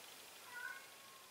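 A cat gives a single brief, faint meow in a quiet indoor room, heard against low background hiss.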